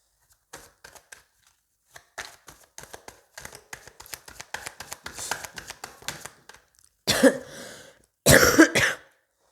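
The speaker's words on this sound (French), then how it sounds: "vous risquez de m'entendre tousser" Someone recovering from Covid coughs twice, harsh and close, near the end, after a run of soft, scattered tapping sounds.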